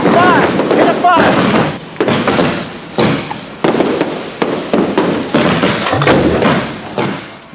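Roman candle fireworks fire at an outdoor display, a dense run of loud, close booming thumps and crackles repeating every second or so with barely any pause.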